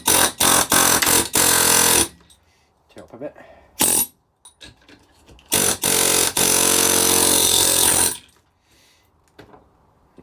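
A Stanley air hammer chisel, used for the first time on a board, fires in loud, harsh bursts, some short and others lasting a couple of seconds, with brief talk in the quieter gaps between.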